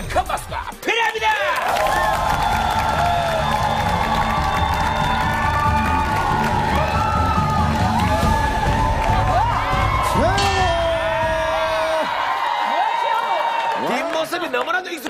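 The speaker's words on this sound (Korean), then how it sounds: "큰 박수가 필요합니다" A studio audience on a Korean variety show cheers and whoops loudly with applause underneath, a continuous bright roar of voices with rising shouts, ending abruptly near the close.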